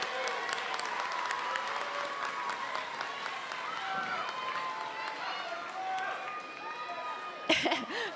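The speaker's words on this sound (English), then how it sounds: "huge round of applause." Audience applause at a school district event, a fairly faint wash of clapping from a crowd, mixed with a few voices and coughs, with a sharper clatter near the end.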